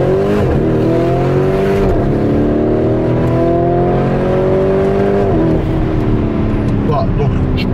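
A tuned Lamborghini Urus with its exhaust in Corsa mode accelerates hard, a loud, close engine roar climbing through the gears with brief dips at each shift.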